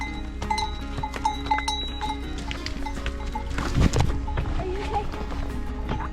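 Cows on a mountain trail along the Camino de Santiago trampling past nearby, with clattering hoof steps, clanking cowbells and a jumble of animal noise, rising to a louder burst partway through.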